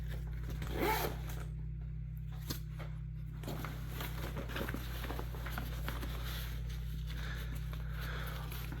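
Zipper on a small mesh pocket of an Evergoods Carryology CTB 26L backpack, pulled in a few quick rasping strokes close by, then softer scraping and handling of fabric against a steady low background hum, with no talking.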